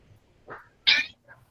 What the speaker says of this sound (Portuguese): Não para de miar, que eu estava com o microfone fechado, mas ela está miando